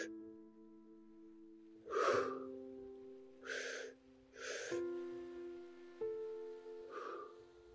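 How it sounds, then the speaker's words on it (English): Four slow, breathy inhalations and exhalations come in evenly spaced swells over sustained soft musical tones, guided belly breathing during a meditative breathwork session. "Breathing in through the belly."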